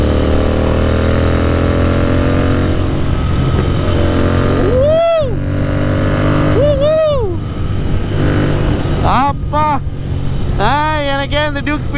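A Kawasaki Z800 superbike cruises at speed with a steady, loud engine and wind drone, while several brief rising and falling tones cut through partway along.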